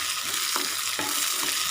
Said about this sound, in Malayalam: ഇതെല്ലാം കൂടി ചേർത്തിട്ട് നന്നായിട്ടൊന്ന് ഇളക്കി കൊടുക്കാം.